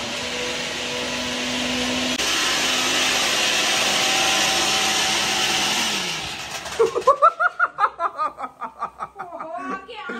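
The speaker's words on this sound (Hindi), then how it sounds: "दादी बटन बंद करके मिक्सी चला रही है" A kitchen mixer grinder runs with a loud, steady whirring drone for about six seconds, then winds down and stops, and laughter and chatter follow.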